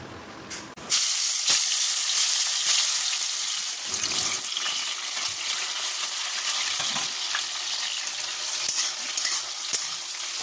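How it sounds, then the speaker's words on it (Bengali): Fish sizzles while it fries in a pan of hot oil in a home kitchen, giving a steady crackling hiss with scattered sharp pops and spatters throughout, heard alone without talk. "চলো মাছটা ভেজে নিই এবার"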